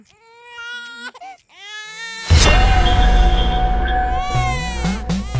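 A baby cries, starting with broken, whimpering sobs and then breaking into loud, sustained wailing close by that continues to the end.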